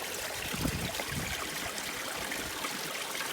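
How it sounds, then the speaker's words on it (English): A small trickle of water runs over rocks on a winter backpacking trail, making a soft, steady babbling that stays faint throughout. "So, we have this little bitty trickle of water"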